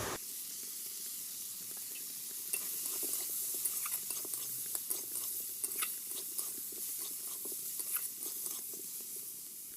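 Shrimp fry in a pan with turmeric and chili powder, giving a steady close sizzle and hiss with scattered crackles and spatters, heard alone without any talking.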